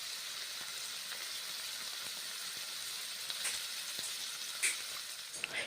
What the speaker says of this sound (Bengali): মশলা আর বাঁধাকপি এখন ভেজে নেব বেশ ভালো করে।